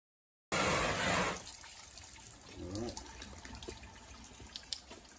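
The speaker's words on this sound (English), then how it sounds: "Turn on the tap." Water gushes loudly from a tap for about a second, then eases into a quieter steady run with faint trickling and clinking.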